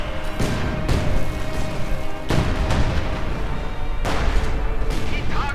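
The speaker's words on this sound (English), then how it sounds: "And a bit of artillery firing into" Artillery firing in Company of Heroes 2: three heavy booms spaced a couple of seconds apart, each with a rolling rumble, over a constant loud battle din.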